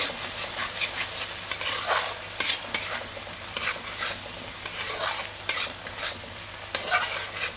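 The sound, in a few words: stirring and frying curry with yogurt in a pan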